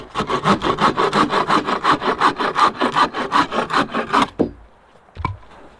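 A hand saw cuts firewood at a wild camp in Harwood Forest with loud, rhythmic back-and-forth strokes for about four seconds. The sawing then stops, and a couple of sharp knocks follow in the quiet.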